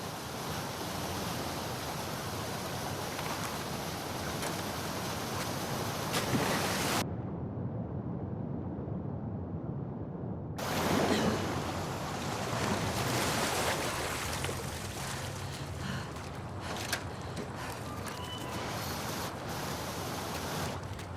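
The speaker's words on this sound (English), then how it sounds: "the player was faced with a fast-flowing torrent of water they couldn't cross" Fast-flowing torrent of water in The Last of Us Part II, a steady broadband rush that runs loud and continuous, cutting out abruptly for a few seconds midway before resuming at full strength.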